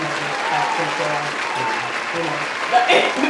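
A small group claps in a steady burst of applause for about three seconds, with voices talking underneath and a brief louder swell near the end.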